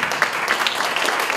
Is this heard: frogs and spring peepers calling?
no